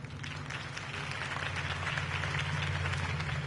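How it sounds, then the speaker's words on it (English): Steady applause from a crowd in a video game, sustained and even, with a low hum beneath it and no pauses. "could have heard that applause"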